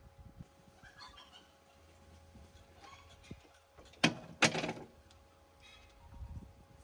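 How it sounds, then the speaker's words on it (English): Two roosters, a lavender bird and a small frizzle, scuffle nearby in a couple of sudden loud bursts of flapping and squawking amid quieter farmyard background sound. "Ooh, the two roosters fighting."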